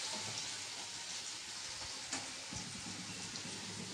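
Pointed gourd and jackfruit seed curry sizzles steadily in a pan while it is stirred, with a few soft scrapes and knocks of the spoon against the metal under the frying hiss.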